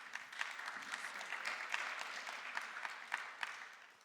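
An audience applauds a conference panel on next-generation church leadership: a few seconds of steady, fairly distant clapping from a modest crowd, with no voices over it.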